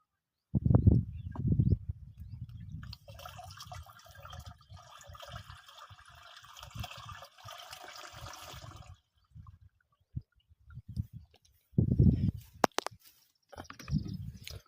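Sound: pouring liquid pesticide into a container

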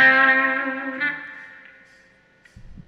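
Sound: Epiphone Zephyr electric guitar, bridge humbucker, with reverb

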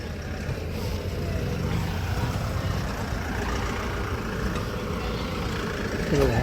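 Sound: trucks idling in line at tomato market

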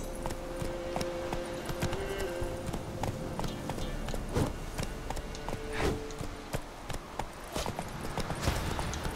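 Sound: horse galloping hooves in video game The Witcher 3

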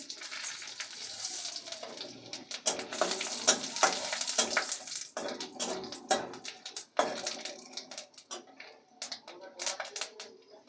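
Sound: whole spices frying in oil

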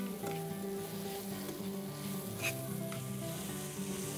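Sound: onions sautéing in a pan

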